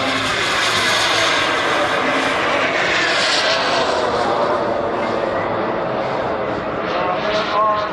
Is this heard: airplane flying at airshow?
yes